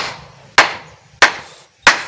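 Three loud, evenly spaced hammer blows drive nails into the wooden wall of a house, each strike ringing sharply and fading before the next.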